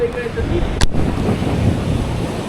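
Loud surf and rushing water wash steadily across the whole stretch, with wind buffeting the microphone and a brief sharp splash near the start.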